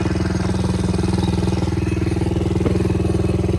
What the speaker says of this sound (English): Not super easy to ride a quad and film.